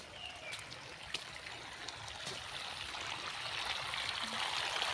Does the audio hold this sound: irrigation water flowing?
yes